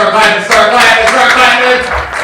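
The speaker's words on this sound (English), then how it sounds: "I need you all to start clapping." Comedy club crowd at the West Palm Improv clapping for the incoming headliner, loud and close, mixed with cheering and an amplified voice talking over the room.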